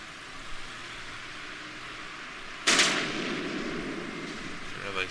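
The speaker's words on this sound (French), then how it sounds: "Oh putain, ils ont des AK-47 les mecs." AK-47 gunfire in GTA San Andreas, a sudden loud burst that cuts in midway and is followed by sustained noisy firing and rumble.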